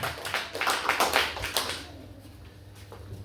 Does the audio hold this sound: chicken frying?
no